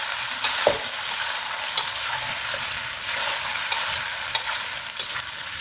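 A spoon stirs chicken in soy sauce in a hot pan, steady sizzling and frying with soft scraping strokes, close up and with no talking.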